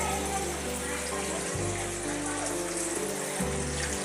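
Spring water streams steadily from a cow-mouth spout at a hillside temple in a constant close splashing rush, with a low mechanical hum and a voice talking underneath.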